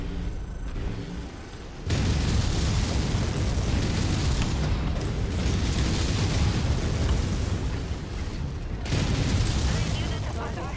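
Enemy mechs blowing up in the MechWarrior game, a loud sustained roar of explosions and debris rumbling almost continuously after a short quieter opening, with a brief dip near the end before another blast.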